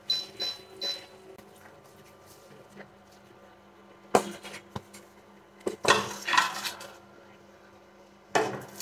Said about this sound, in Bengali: আগে এই সবজিটাকে নামায় এক সাইডে রাখতে হবে।